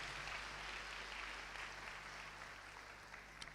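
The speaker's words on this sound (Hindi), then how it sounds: "आइए खुदा के कलाम के लिए जोरदार तालियां बजाइए" A congregation at an evangelistic and healing church meeting applauds, a soft, distant, steady patter of many hands over a low electrical hum, fairly faint and unbroken throughout.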